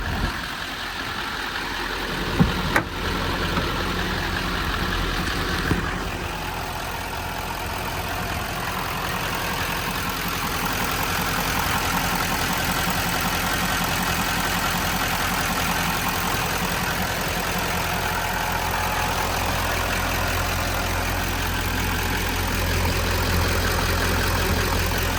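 A 2012 GMC Sierra 2500 SLT Z71 4x4 with the 6.6-liter LML Duramax diesel and Allison transmission idles nearby, a low, steady rumble that runs throughout, broken early by a few sharp clunks.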